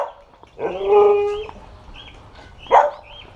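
Two distinct dog barks, one drawn-out howling bark and a sharper yelp later, with faint whining between them.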